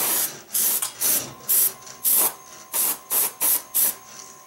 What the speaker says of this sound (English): I think I have a small air leak on my compressor because it keeps kicking on and off